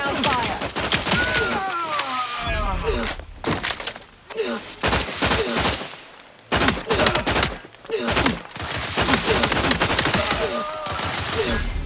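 Sci-fi shooter combat in The Outer Worlds 2 brings bursts of rapid gunfire and heavy impacts, loud and close, with brief lulls between volleys and faint game voices mixed in.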